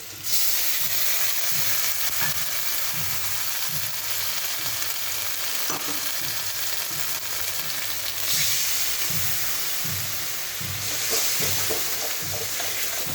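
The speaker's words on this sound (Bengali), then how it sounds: "মশলা আমি অল্প ভেজে নেব। এখানে অল্প আদা, জিরে আর লঙ্কা আছে।" Ginger, cumin and chilli sizzle steadily in hot oil in a pan, a close, continuous frying hiss with faint rhythmic stirring scrapes and no talk.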